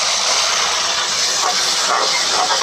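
Tomatoes hitting browned onions frying in a pan for a Pakistani lobia masala give off a loud, steady, broadband sizzle that continues unbroken with no talking.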